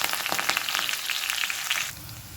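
Curry leaves and cumin crackle and sizzle in hot oil alongside crushed garlic, a steady close spitting fry with no voices that drops off slightly near the end.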